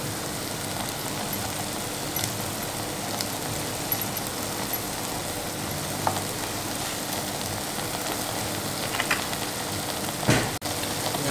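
Chicken thoran sizzling in a pan with a couple of spoons of raw coconut oil, a soft continuous crackle and spit at low volume with occasional stirring scrapes, no voices.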